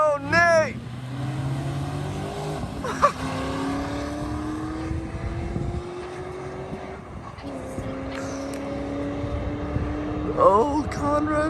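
Drag race cars in a grudge race at a test and tune event, engines rising in pitch through gear changes as they pass, with excited voices talking over the racing.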